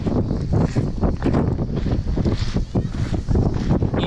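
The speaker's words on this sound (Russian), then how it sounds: "несмотря на то, что здесь ветрено, само море очень и очень спокойное" Wind gusts across Gennadi's pebble beach on Rhodes beside a calm sea, a steady loud rush with buffeting microphone noise that continues without a break for the whole stretch.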